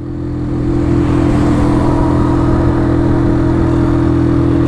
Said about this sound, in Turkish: Bakalım motor açıldıkça ne şekillere bürünecek, ben de merak ediyorum.